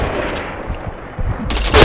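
Video game gunfire in a bomb-defusal shooter, heard as a loud, close rapid burst of shots followed by a sharp final crack, with no clear voices.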